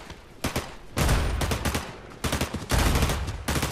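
Gunfire in the battle royale video game Fortnite, loud rapid volleys of shots in several bursts, some overlapping into dense fusillades, with no talk.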